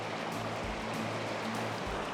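Rough river water rushing at the falls where fish leap upstream, a steady broadband roar of churning current with low rumbling, continuous and fairly close with no voices.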